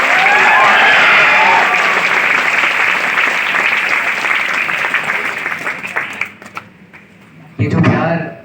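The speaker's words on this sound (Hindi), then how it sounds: "तालियों का शोर जो बीच में रुक गया है।" Dense, loud crowd applause at a packed coaching-class event in Patna, sustained clapping that thins into scattered claps before a final short burst.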